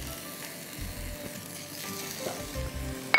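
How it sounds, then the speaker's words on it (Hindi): Ginger garlic paste sizzles in hot oil or ghee over browned onions, a steady close frying hiss with light crackle throughout and no talk. "अब हम इसमें डालेंगे अदरक लहसुन का पेस्ट"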